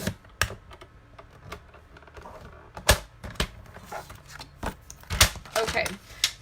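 Paper trimmer or cutter slicing Whisper White cardstock, a series of sharp clicks and snaps scattered irregularly, close with faint handling noise between them.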